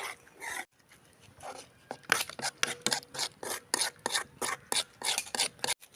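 Egg mixture being stirred in a pan, a run of quick, regular scraping and rubbing strokes, close and fairly loud, with a few softer strokes and a brief pause near the start.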